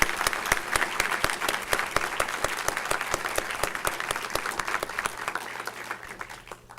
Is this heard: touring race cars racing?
no